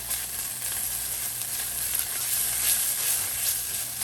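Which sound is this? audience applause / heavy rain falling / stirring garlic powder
stirring garlic powder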